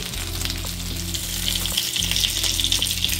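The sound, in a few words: shallow frying paneer chop in oil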